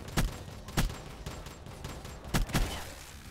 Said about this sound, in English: Damn, was that four shots?